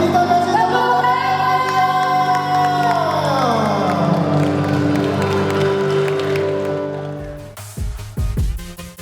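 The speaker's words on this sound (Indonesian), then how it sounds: "Mari kita kasih tepuk tangan." A crowd at a law faculty alumni reunion breaks into loud, sustained applause and cheering, the dense clapping continuing steadily for several seconds before tapering into scattered claps and shouts near the end.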